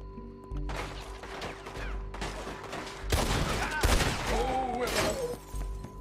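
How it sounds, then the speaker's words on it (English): Shotgun fire in a video game bursts out in several loud, sharp blasts and crashes, spaced irregularly, with a voice heard briefly among them. "Jesus, man, they're using shotguns."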